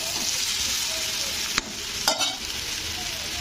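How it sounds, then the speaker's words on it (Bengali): Continuous sizzle of vegetables frying, broken by a couple of sharp scraping knocks as a utensil stirs the pan. "লবণটা দিয়ে একটু নাড়াচাড়া করে দেবো"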